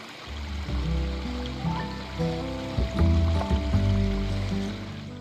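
Creek water flows steadily over rocks on a quiet morning in bear country, a continuous close rushing burble with no talking.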